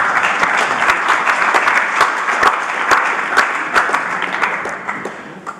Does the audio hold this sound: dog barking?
no